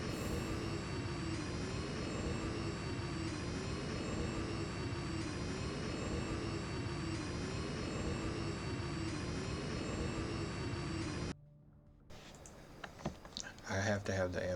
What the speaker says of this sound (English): I have to have the ambient sound on to keep the jet from being too loud.